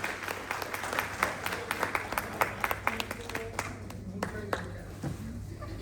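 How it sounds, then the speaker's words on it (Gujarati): A small indoor audience at a school event claps steadily, a mix of sharp individual claps close by and a softer crowd patter behind. "આપણે સૌ ઉચ્ચ સ્વરે તાળી નાદ કરી આપણને વધાવી લઈએ।"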